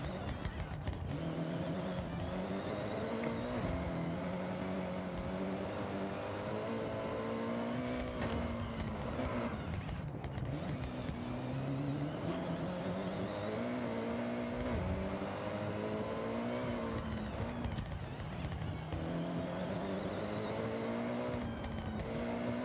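A tuned car engine races and revs steadily in the Forza Horizon driving game, a loud continuous drone with rising and falling pitch as the car accelerates and shifts, with no voices over it.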